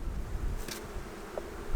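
Honey bees hum and buzz around an opened hive during a swarm-season inspection, a faint, steady drone with a brief closer flyby, no talk.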